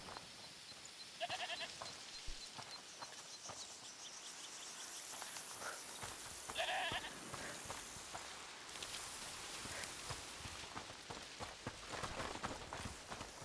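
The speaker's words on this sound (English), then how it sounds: "I hear the goat." A goat bleats faintly in the video game A Plague Tale: Requiem, a couple of short distant calls amid steady insect and cricket chirping in a quiet outdoor ambience.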